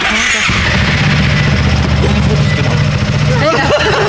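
A motorcycle engine starts and settles into a loud, close, rumbling idle, with brief voices near the end.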